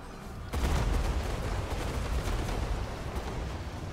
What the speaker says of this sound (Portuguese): Vamos jogar umas explosões de fogo aqui neles.